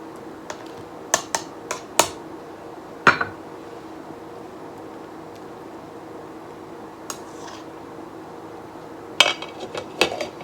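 A spoon knocks and scrapes inside a pot of pinto bean soup in a home kitchen, giving a handful of sharp, scattered clinks at close range over a quiet background, with no talking.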